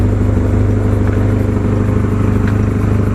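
Idling car engine with the exhaust pipes simply butted together rather than joined, giving a steady low rumble with a faint clattery edge that runs unbroken and close for the whole stretch.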